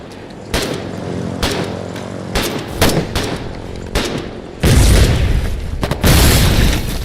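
An airplane strafes in the war video game Foxhole, producing loud, close bursts of rapid gunfire and booming impacts in irregular clusters, with the heaviest, sustained volleys near the end.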